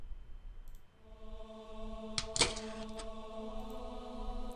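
A door being unlocked in the video game Umineko gives a quick pair of sharp metallic clicks midway, quiet against a steady, sustained musical tone.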